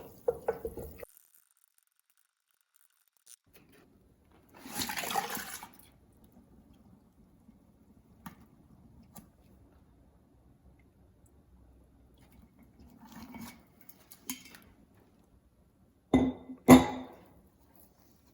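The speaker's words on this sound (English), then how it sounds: "I'll stir jar B." Brewing makgeolli rice mash is stirred in a glass jar, giving quiet, scattered clinks, wet sloshes and scrapes spaced by long pauses, with a sharper rattle near the end.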